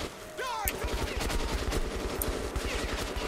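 Rapid gunfire in a video game played on a Ryzen 7 3800X PC, a dense fusillade of sharp repeated shots with whooshing and zipping effects, loud and continuous for several seconds, with no talking.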